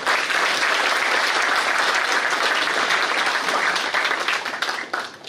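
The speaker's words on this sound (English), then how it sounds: "let's have a big round of applause" A crowd claps in sustained, dense applause at a college valedictory event, staying loud and even for about five seconds before beginning to thin out.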